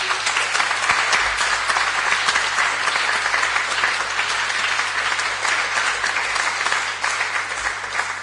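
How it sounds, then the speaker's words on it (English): Loud, sustained applause fills a council chamber during a Haringey full council meeting as members clap for a deputation, many hands at once in a continuous, even roar with no voices over it. "we should applaud our deputation."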